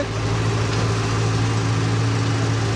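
A steady tractor engine drone with a low, constant hum, running evenly throughout without any change in pitch.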